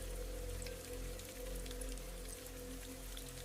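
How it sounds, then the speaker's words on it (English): Steady rain with scattered drips falling from leaves onto a greenhouse roof, a continuous soft patter with a low rumbling undertone. "the water dripping softly from leaves onto the greenhouse roof"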